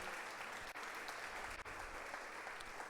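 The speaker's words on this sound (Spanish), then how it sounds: "¿Por qué no le damos un fuerte aplauso al Rey de Reyes?" A church congregation claps in a steady, dense round of applause that sounds faint and distant, with no voices on top.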